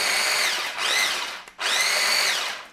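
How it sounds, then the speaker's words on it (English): A whisk or hand mixer beats a Spanish orange flan mixture in two sustained, loud whirring bursts with a short break between them and no talk. "I'm whisking that gently whilst the seed,"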